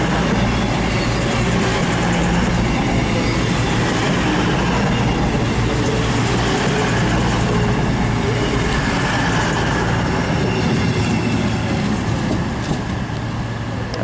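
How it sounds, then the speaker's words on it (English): A Class 221 Super Voyager diesel train on a CrossCountry service pulls into Stockport station on the West Coast Main Line, a loud, steady engine rumble and rolling roar filling the whole stretch, with no voices. "Arriving is the 1213 cross-country service to Exeter St David's from Manchester Piccadilly, going to the 221 Super Voyager"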